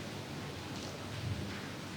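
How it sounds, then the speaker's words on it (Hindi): Heavy rain pours outside as a steady, dense hiss of moderate loudness, continuous and without speech. "बाहर घमासान बारिश चल रही है"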